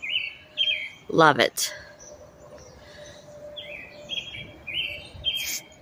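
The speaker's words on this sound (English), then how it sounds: "you can hear the beautiful birds chirping" Birds chirp outdoors on an Ohio morning, with bright repeated tweets and one louder trilling call close by, set against a soft background hum, while a person briefly speaks.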